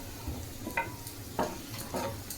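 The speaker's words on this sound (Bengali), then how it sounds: "এখন এটা আমি একটু লাল লাল করে ভেজে নেব।" Onions frying in oil in a wok, a soft steady sizzle with a few brief scraping stirs of a spatula, close and fairly quiet, no voices.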